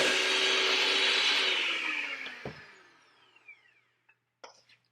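Electric mixer beating gluten-free whoopie pie batter: a loud whirring motor whine that winds down and fades over a few seconds, followed by a couple of faint knocks and clinks against the bowl.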